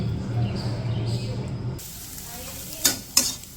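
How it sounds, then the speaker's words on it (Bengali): Eggs frying in a little hot oil in a wok give a steady, fairly loud sizzle. A rumbling stir is heard early on, and two sharp crackling bursts come near the end. "এই যে এখন হচ্ছে ডিম দিয়ে দিচ্ছিলাম, ডিমগুলো ভাজি করে তখন নামাই নেব।"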